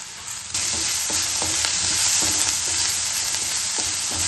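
Chopped onion frying in a pan with a spoonful of salt for a Kerala vankaya-munakaya thoran, a steady loud sizzle with clinks of a spoon stirring throughout, no voices.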